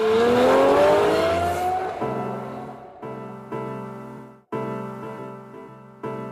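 A powerful car engine roars and climbs in pitch, then drops into a steady low drone broken by several abrupt gear-change dips, loud and close.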